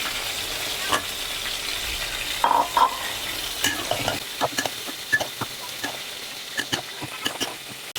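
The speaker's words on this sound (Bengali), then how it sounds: "এখন দিয়ে দিব ধুয়ে রাখা মাংসগুলো।" Washed meat is added to fried masala in a pan and frying, with steady sizzling and sharp stirring clicks and scrapes throughout, close and fairly loud.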